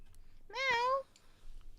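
A person imitates a cat, giving one drawn-out, clear meow in a high, tonal voice that rises and then falls, surrounded by quiet room sound.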